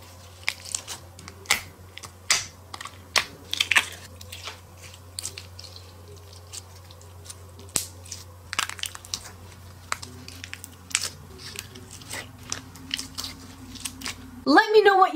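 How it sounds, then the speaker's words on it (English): Crunchy fluffy slime squeezed and pressed by hand, a run of crisp crackling crunches and soft squishes repeating through the whole stretch, close and fairly loud, with a louder burst of crunching at the end. "here's a montage of satisfying crunchy sounds from those slimes"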